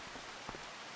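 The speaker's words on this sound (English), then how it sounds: "Quite heavy rain actually" Heavy rain on a gloomy day on a Montana farm field, a quiet, even patter and hiss with a faint brief knock partway through.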